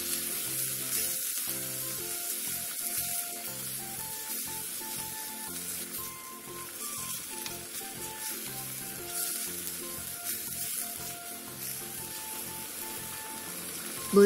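Minced garlic, ginger and soy sauce sizzle in a pan for a Korean soup base, a continuous bright frying hiss with soft stirring scrapes and a faint tonal hum underneath.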